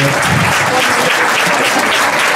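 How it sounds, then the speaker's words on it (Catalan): Loud, dense applause from a crowd at a centenary football club's team presentation in Navàs, a steady roar of clapping filling the whole stretch with no voices. "voldria un fort aplaudiment per ell"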